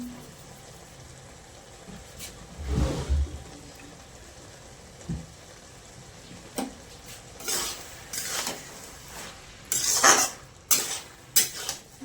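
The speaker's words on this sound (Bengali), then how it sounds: "এবার ভালো করে নেড়ে চেড়ে হতে দেবো।" Bottle gourd and prawns stirred in a pan, with a spoon clattering and scraping against the metal in irregular bursts over a faint background sizzle, loudest near the end, no speech.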